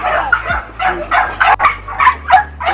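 American Pocket Bully dogs at a kennel barking in a rapid series of close, loud barks and yips, about ten in under three seconds.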